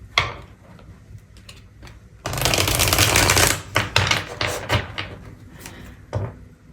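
Oracle cards being shuffled by hand, a quick papery riffle and a burst of dense flicking that swells in the middle, followed by scattered light taps and card slaps, close and fairly quiet.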